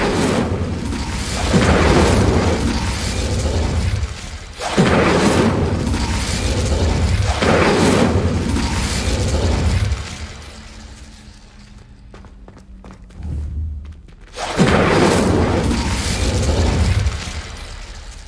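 Repeated fire-spell blasts in Hogwarts Legacy, loud booming roars recurring every few seconds, with rustling movement and a quieter stretch partway through before another blast.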